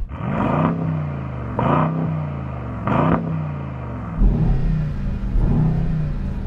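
A car engine revs repeatedly in three or four rising bursts, each followed by a throaty exhaust drone settling back to idle, loud and close.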